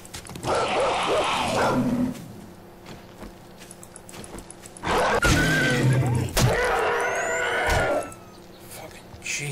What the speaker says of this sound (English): That's a zombie dog.